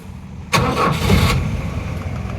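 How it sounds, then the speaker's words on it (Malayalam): A Mahindra Jeep CJ3B's naturally aspirated engine cranks and catches at once, then settles into a quiet, steady idle close by. "നമ്മൾ വാഹനം സ്റ്റാർട്ട് ചെയ്തിരിക്കുന്നത് ഭയങ്കര സൈലൻ്റ് ആണ് കേട്ടോ"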